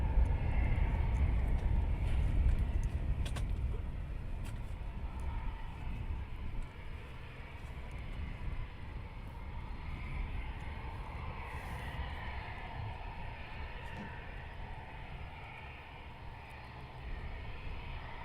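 Military jets, mainly Typhoons, taxi at RAF Coningsby with four approaching from the distance, giving a steady low engine rumble and broad whine that stays fairly even throughout with no talk.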